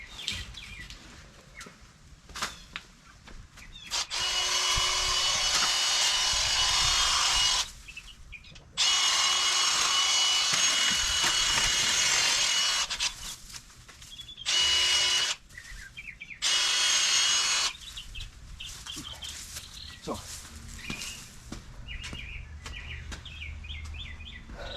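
A Milwaukee M12 Fuel 8-inch cordless hedge trimmer cutting through branches, its high buzzing motor running in several bursts of a few seconds each, separated by short pauses with faint birdsong in the background.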